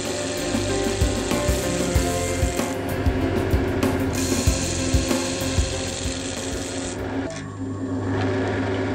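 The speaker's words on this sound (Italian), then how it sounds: "Ripetiamo l'operazione di rettifica procedendo con tagli delicati." A wood lathe turns the third ring of an open segmented bowl while a gouge makes delicate finishing cuts. A continuous, fairly loud rasping scrape runs throughout with small rhythmic ticks and no voices.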